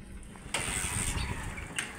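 Motor tricycle engine cranks and catches with a sudden burst, then settles into a close, rough, steady idle with a brief hiss near the end.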